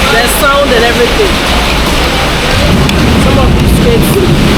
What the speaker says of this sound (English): I'm enjoying the rain. The sound and everything.